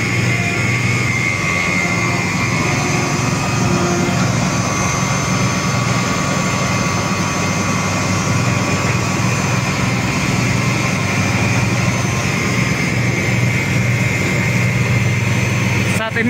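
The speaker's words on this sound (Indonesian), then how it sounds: "Inilah pergerakan mesin yang canggih tentunya." A large track laying machine for the Indonesian high-speed railway moves during a trial run, giving a loud, constant heavy engine drone with a steady mechanical hum throughout, with someone talking over it.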